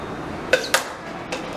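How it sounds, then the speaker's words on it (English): A homemade straw air rocket weighted with a small nail tip strikes a door, giving two quick sharp knocks close together followed by a fainter third tap, set against a quiet room. "Now we shoot the door that you hear the impact."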